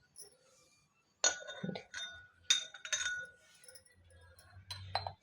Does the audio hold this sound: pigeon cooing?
no